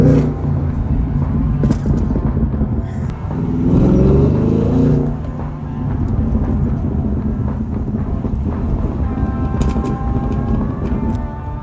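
A Ford Focus ST's engine rumbles loud and close with a coarse low growl, swelling in one strong rev midway before settling back to a steady idle with wind buffeting the microphone.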